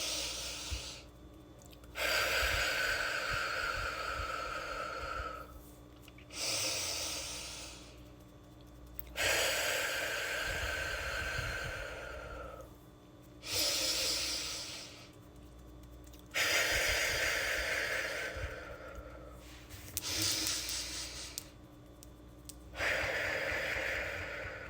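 Slow, deep breathing during a calm morning routine, a series of long, audible inhales and exhales in a steady rhythm close to the microphone, each breath separated by a short pause, with no talking.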